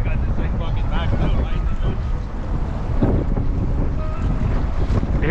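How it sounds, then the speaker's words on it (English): Strong wind roars over an open fishing boat on the Detroit River, a steady loud buffeting rush against the microphone with water sloshing beneath. "Here comes the wind."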